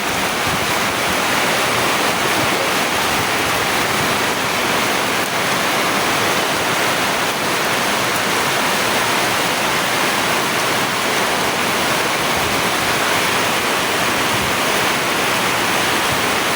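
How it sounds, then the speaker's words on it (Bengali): Heavy rain pours down in a dense, unbroken roar, with wind adding a blustery rush; loud and constant, no voices. "সাথে বাতাসও আছে, আবার বৃষ্টিও আছে, দুটোই একসাথে হচ্ছে। প্রচণ্ড বৃষ্টি"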